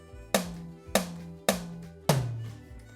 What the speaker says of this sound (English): Tom-toms make very clear sounds, and the tom-toms sound like this